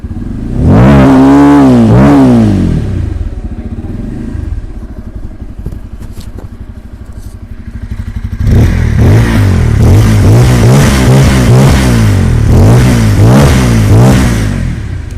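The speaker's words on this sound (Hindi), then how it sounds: "इसके अलावा सबसे अच्छी चीज इस बाइक की मुझे साउंड लगी।" A Bajaj Pulsar N250 motorcycle engine revs hard and loud up close in repeated bursts, dropping to a throbbing idle in the middle before rapid successive blips resume.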